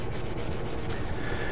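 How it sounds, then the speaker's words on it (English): Steel wool scrubs a surface in quick, rhythmic back-and-forth rubbing strokes, close and fairly loud, about a dozen strokes in under two seconds with no talking. "And then I'm going to come right behind it with this steel wool again."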